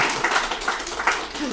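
Congregation clapping during a Sunday church service, a short stretch of rhythmic, fairly close claps beneath a singing or speaking voice.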